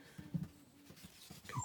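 Dog whimpering and panting indoors, a few faint soft whines and breathy huffs in short bursts, quiet and close.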